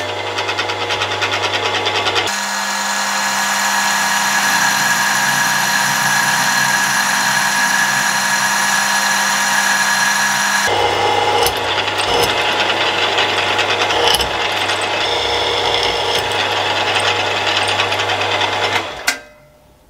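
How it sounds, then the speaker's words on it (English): A round column milling machine runs continuously while drilling 6mm holes, a loud steady motor whine whose pitch shifts partway through, then cuts off at the end. "I'm going to start with drilling out these 6mm holes"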